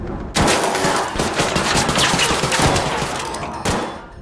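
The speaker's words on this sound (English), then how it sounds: "So Arc Raiders' indoor gunfire still maintains loudness control." Indoor gunfire in the video game Arc Raiders: loud, continuous rapid automatic bursts with sharp repeated shots that hold steady across several seconds and break off briefly before resuming.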